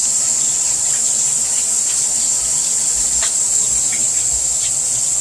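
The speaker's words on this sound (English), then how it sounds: "So we start the shower first so that the room is steamy and warm." A running shower fills the bathroom with a steady, close hiss of spraying water, unbroken throughout, with a faint high ringing tone above it and no talk.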